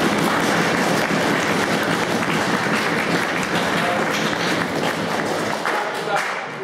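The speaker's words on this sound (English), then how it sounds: "Give yourselves a round of applause for that" Tournament crowd applauding steadily at an awards ceremony, dense clapping holding loud and unbroken before thinning slightly at the end.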